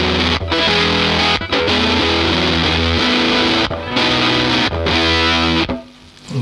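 A Fuzz Face fuzz pedal built on a breadboard drives a guitar into thick, buzzing distortion, loud sustained chords broken by short gaps, with a noisy hiss as the sound dies away.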